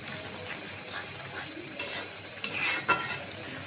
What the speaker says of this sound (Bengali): মশলাটা কষানো হয়েছে